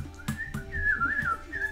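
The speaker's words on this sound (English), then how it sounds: "You whistle and you wait here?" A person whistles a short, wavering, gliding tune close by, with a few soft knocks in the background.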